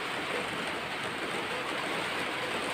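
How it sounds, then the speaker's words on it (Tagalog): Heavy rain falls in a dense, even hiss, steady throughout and fairly soft, with no voices. "Grabe talaga yung ulan."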